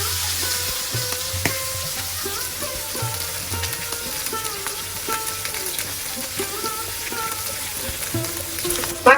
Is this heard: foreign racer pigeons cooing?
no